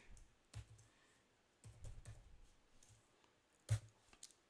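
Typing on a computer keyboard while coding a web app, with faint, quiet clusters of key clicks in short bursts and a sharper tap near the end, no voice over it.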